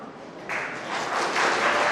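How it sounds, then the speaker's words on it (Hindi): An audience at a Hindi national seminar in Kodungallur breaks into applause, a dense wash of clapping that starts softly and builds steadily louder over two seconds. "आपको तालियां बजाने की जरूरत नहीं है"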